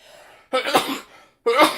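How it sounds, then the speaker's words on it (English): Two sharp, explosive sneezes close by, separated by a brief silent pause. "It's not normal to sneeze. I never sneeze."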